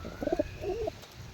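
Pet pigeons coo in two short bursts of low, throaty calls, close and fairly clear, with a brief pause between them and no talking.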